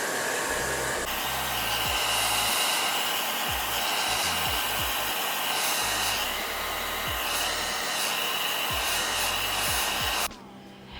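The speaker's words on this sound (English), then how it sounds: "Now I'm gonna take my blow dryer." A blow dryer on a medium setting whirs steadily for about ten seconds, with soft rubbing and brushing sounds underneath, then cuts off abruptly near the end.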